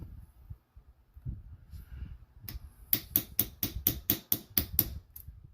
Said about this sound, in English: tap that back into place. Soft side of the hammer so that you don't mar your brand new bracelet.